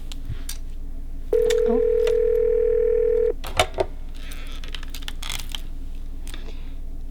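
A telephone call sound effect on a call-in tarot reading show: a steady electronic tone holds for about two seconds, followed by a couple of clicks and a brief exclamation from a voice over a low background hum.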